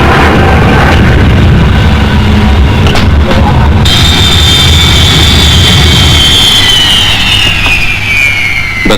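De Havilland DH.110 jet aircraft at a 1952 Farnborough air show, a loud roaring jet with a high whine that sweeps down in pitch as it passes close overhead.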